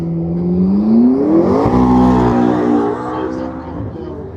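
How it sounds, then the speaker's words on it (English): A McLaren V8 car accelerates at a hill climb event, its engine note rising steadily in pitch and loudness before levelling off, close and strong. "Very nice V8."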